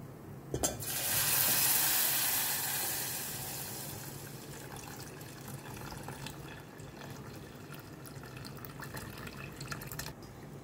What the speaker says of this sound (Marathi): सो आतां घालता हांव दूद घालता